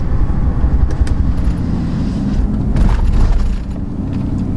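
A Powerstroke diesel truck with a tuned transmission drives along, its loud engine drone shifting as it downshifts, with a few rattling mechanical clicks.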